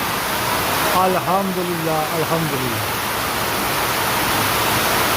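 Heavy torrential downpour during a rainstorm, a steady loud broadband hiss of pouring rain throughout, with a person speaking briefly over it near the start.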